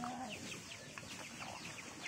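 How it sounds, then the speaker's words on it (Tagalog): Farm chickens cluck softly and repeatedly as they feed, their short calls overlapping in a busy, close-up murmur against a steady outdoor background. "Nakikikain din po yung mga manok."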